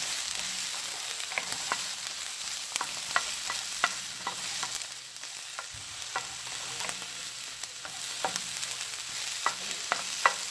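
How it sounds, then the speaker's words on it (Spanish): Spinach filling for plantain empanadas fries in a pan with a steady, fairly quiet sizzle. Scattered sharp scrapes and taps from the stirring utensil sound throughout, and no one talks. "Vamos a freír un poquito."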